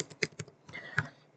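A few quick clicks of keys being typed on a computer keyboard while entering a command in a code editor's built-in terminal, short and fairly quiet with no talk.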